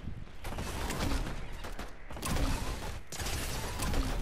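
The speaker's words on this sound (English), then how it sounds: "Who's shooting at us?" Gunfire in the Fortnite video game, with bursts of rattling shots and mechanical clatter coming in uneven waves, fairly close and steady, with no one talking.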